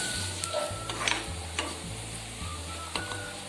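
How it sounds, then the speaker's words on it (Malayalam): Chili and curry leaves fry with onions in a pan for a Kerala prawn and mango curry, giving a soft, steady sizzle broken by occasional light clicks and stirring taps. "മുളകും കറിവേപ്പിലൊക്കെ ജസ്റ്റ് ഒന്ന് ആടിയാൽ മതിയാവും കേട്ടോ."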